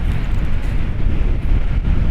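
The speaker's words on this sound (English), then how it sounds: "but it's really too windy for that." Strong wind buffets the microphone at Pomos harbour in Cyprus, a loud, continuous low rumble with gusty swells and no voices.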